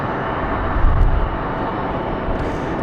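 Airbus A220 airliner arriving at Raleigh-Durham International Airport, its engines making a steady broad roar at moderate distance, mixed with breezy wind noise.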